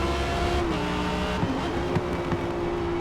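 Lamborghini race cars in Forza Motorsport roaring down a long straight, steady high engine drone with shifting pitch and brief gear-change dips, loud and continuous with no talk.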